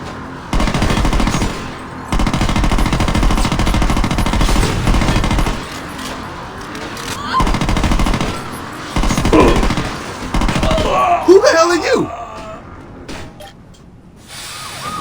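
Machine gun fire in Saints Row blasts in several long, loud bursts separated by short gaps, with a brief whooshing, whistling effect near the end before the firing fades.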